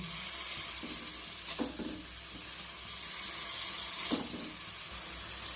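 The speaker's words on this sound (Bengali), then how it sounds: "এইভাবে আমি অনবরত নাড়াচাড়া করতে থাকবো" Coconut filling cooked with date-palm jaggery is stirred in a pan, giving a soft, steady sizzling hiss with a couple of brief scraping strokes of the spoon.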